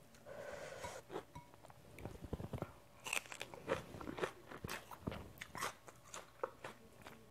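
A person eats geoduck clam with seafood dipping sauce in Korea. The crunchy bites and wet chewing are close and irregular, with occasional breaths and snorts between them.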